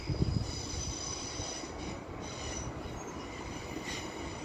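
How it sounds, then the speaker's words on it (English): A Northern Class 323 electric train from Manchester Piccadilly arrives at Stoke-on-Trent, a steady rolling rumble with sustained high wheel squeal and faint metallic tones throughout, a brief thump at the start. "And now terminating in will be a Northern Class 323 from Manchester Piccadilly."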